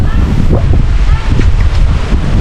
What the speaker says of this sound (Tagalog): Malakas yung alon ngayon dito sa lake.